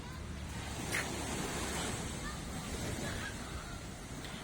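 Continuous surf washes in under steady wind rumble at Laem Mae Phim beach in Rayong, Thailand, a broad outdoor roar heard from nearby without distinct breaks.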